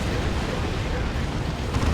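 Rocket-run explosions rumble in the Dawn of War 2 strategy game, a dense, continuous roar of blasts and booms filling the whole moment.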